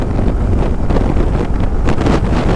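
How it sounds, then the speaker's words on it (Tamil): Strong wind buffets a moving motorbike, producing a loud, continuous roaring rush that swells and dips slightly without pause throughout. "பயங்கரமாக காற்றடிக்குதுங்க, வண்டியே ஒரு பக்கம் அப்படியே தள்ளிட்டு போகுது."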